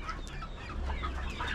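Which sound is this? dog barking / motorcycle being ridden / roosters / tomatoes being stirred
roosters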